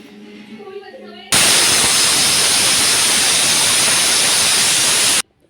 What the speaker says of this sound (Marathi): लावलं कुकर, संध्याकाळचा भात लावला